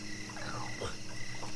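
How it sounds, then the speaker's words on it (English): Crickets chirp in a night scene of an audio drama set somewhere in Egypt, a faint, steady trilling alongside croaking, frog-like calls, with no talk. "All at once I realized what I was hearing. Crickets."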